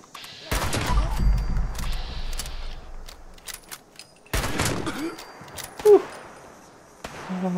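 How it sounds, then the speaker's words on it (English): Hunting rifle shots fired in the Fallout 76 video game, sharp loud reports with one burst near the start and another midway, scattered with smaller game sounds and impacts. "Love me a good hunting rifle."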